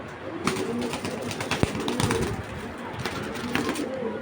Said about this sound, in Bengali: এই যে বাইশের কবুতর আর মাদিরা দেখাই